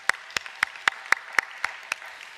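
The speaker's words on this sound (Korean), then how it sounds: "하나님께 감사의 박수 올리겠습니다" A church congregation at a Sunday worship service claps in unison, about eight sharp, evenly spaced claps in a quick steady rhythm, with no voices.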